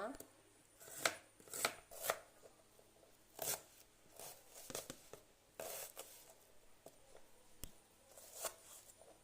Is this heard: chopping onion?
yes